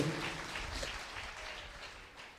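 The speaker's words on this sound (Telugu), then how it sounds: "మరి ఒకసారి అందరూ చప్పట్లు కొడదాం దేవుని వాక్యాన్ని బట్టి." A church congregation claps together in a dense, steady wash of applause that slowly fades over a couple of seconds, heard from within the room with no talking.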